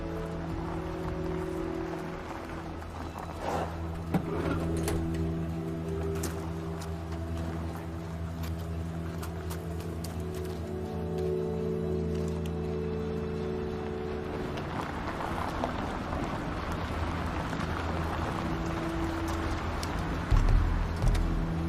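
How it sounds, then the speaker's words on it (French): A van approaches in an action film, heard as a low, steady engine rumble under a continuous wash of background noise that roughens toward the end. "Une camionnette se dirige vers toi."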